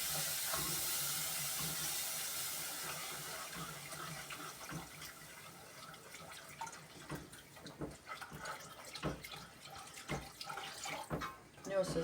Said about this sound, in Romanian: Și în momentul ăsta punem apa.